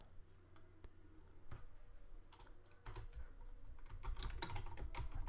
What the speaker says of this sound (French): Exemple, je tape app iPad gratuite.